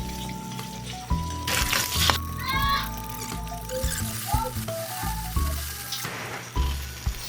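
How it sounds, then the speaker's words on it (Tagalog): Aromatics sizzle and crackle in hot cooking oil in a pan, with loud bursts as ingredients are stirred and tossed, plus clinks of a utensil against the pan; no speech. "Naglagay na ako ng mantika at dito sinisimulan ko na magisa."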